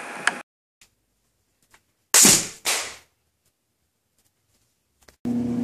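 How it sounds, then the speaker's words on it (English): A homemade handheld PVC potato cannon fires once with a loud, sharp blast and a quick second burst, then the scene falls quiet. "So let's go ahead and fire it."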